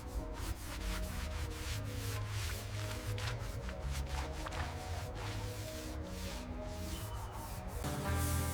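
A soft brush scrubs decades of grime off parts of a 1937 Peugeot 402 Darl'Mat, giving a steady, close, continuous rubbing swish with faint scratchy strokes and no talk.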